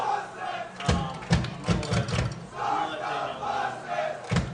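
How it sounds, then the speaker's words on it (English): Calvert Hall students in the stands at a varsity lacrosse quarterfinal against St. Paul's, shouting a rhythmic chant in loud repeated bursts, a crowd of voices rising and falling in pulses. "As the Calvert Hall students start cheering"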